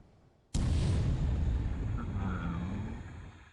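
A 3-inch deck gun on a warship fires in the War in the Pacific naval wargame, a single sudden loud blast whose boom rolls on and slowly fades over several seconds, with no voices.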